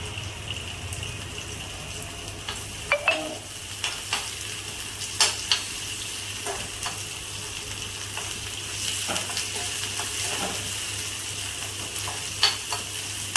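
Onions frying in a pan over tempered seeds give a steady sizzle, and a spoon stirs now and then with faint clinks.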